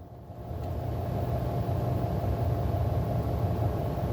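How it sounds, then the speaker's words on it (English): A four-year-old car's engine gives a low, steady rumble heard from inside while driving, swelling slightly at first and then holding even, with no talk. "driving around in my 4-year-old car."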